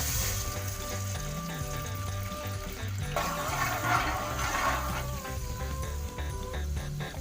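Cardamom and whipped yogurt dropped into hot oil in a pan while making mutanjan, a steady sizzle that swells into a louder bubbling hiss midway, with no talking.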